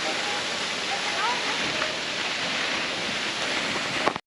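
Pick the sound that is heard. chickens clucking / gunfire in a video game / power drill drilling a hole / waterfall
waterfall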